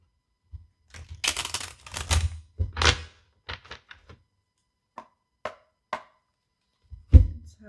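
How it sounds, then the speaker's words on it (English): A deck of tarot cards is shuffled close up: bursts of riffling and crisp card slaps, followed by a few isolated taps and a final sharp knock against a table in an otherwise quiet room. "Okay, one more shuffle."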